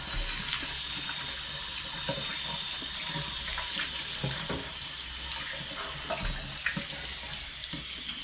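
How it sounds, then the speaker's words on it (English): Hands are washed under a running kitchen tap, a steady, moderately quiet stream of water with small splashes and shifts as the hands move through it. "Wash my hands a bit."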